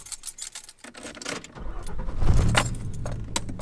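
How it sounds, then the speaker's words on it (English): A manual transmission car engine starts after keys jangle, its low rumble rising partway through and settling into a close, steady run. "Let me just start the car."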